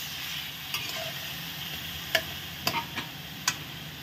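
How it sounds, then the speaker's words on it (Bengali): A spoon stirs spiced olive chutney in a pan with turmeric and salt, giving a soft steady sizzle broken by a few sharp scraping clicks against the pan, close and fairly quiet, with no talking. "এখন আমি এটাকে একটু নেড়ে নেব"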